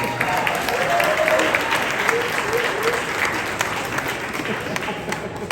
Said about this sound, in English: If you are black, clap for yourself.